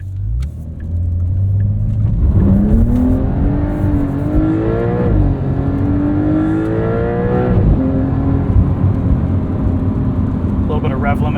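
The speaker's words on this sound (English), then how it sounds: "A little bit of rev limiter there" Porsche 911 Carrera S engine, 2025 992.2 model, droning loud and close, then rising in pitch before bouncing off the rev limiter in repeated steady cuts.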